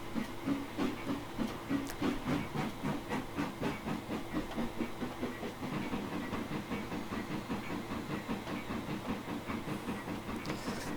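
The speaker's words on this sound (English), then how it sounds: "The chuff sounds are not half bad." A Texas & Pacific B-8 0-6-0 steam locomotive chuffs rhythmically in the Trainz 2019 game, with an even, rapid beat of exhaust bursts over a hissing background, moderately quiet and steady.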